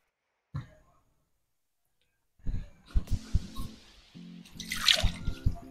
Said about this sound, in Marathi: आता विसळून आपण थोडं पाणी टाकून देऊया त्याच्यामध्ये.